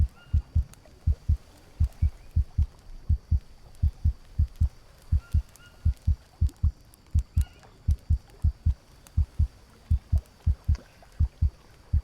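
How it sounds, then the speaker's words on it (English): Heartbeat in a VR survival video game thumps in a slow, regular double-beat rhythm for the whole stretch, low and clear against a quiet background. "I guess I'm not dead because I can still hear my heartbeat"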